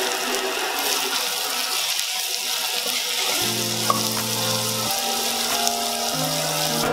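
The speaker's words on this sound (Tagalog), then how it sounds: "Dahil bubuhusan natin yan ng mainit na tubig." Hot water poured over shrimp paste (bagoong) and seasoning cubes in a pot, a steady hissing, bubbling pour rising partway through with a low rumbling tone underneath, close and fairly quiet.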